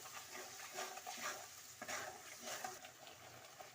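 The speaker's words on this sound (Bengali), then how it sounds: "আর সামান্য একটু জল দিয়ে মশলাটাকে আমি কষে নেব যতক্ষণ না তেলটা ছেড়ে দেয়" Spice paste frying with a little water in a pan, giving a continuous soft sizzle and bubbling with occasional stirring scrapes, faint and close.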